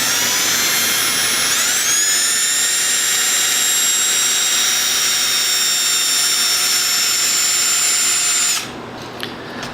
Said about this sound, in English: And then just slowly start spinning the drill